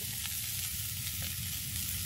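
Chopped garlic and onion frying in hot butter, giving a steady, close sizzle with faint stirring ticks throughout and no voices.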